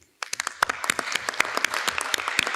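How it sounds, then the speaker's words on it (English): A conference audience applauds its organising team in a short, brisk burst of clapping that starts abruptly and holds steady, many hands close and fairly loud. "And again, applause for all the team."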